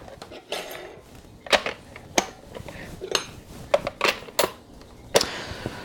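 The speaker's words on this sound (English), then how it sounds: "squirting it onto a solid plate and then scraping it off and doing it again" A metal scraper or spatula dragged and tapped across a solid plate while frosting is scraped off, giving irregular clinks and short scrapes, fairly close and moderate in loudness.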